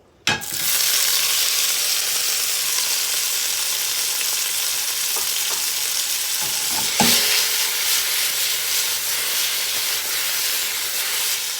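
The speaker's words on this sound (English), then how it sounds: "So now I'm just going to heat up the tomatoes." Tomatoes heating in a pan for a summer zucchini and squash pasta give off a steady, close sizzle and hiss, with a few brief stirring scrapes partway through and no talking.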